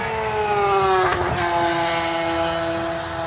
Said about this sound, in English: Of course, I live right by the highway, so the traffic is going to be a little loud.